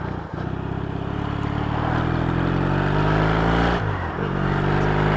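A Yamaha XS650 motorcycle with drilled-out, louder pipes drones steadily near the microphone, its engine note climbing gradually through a long pull, then dipping briefly before picking up again, with no voices.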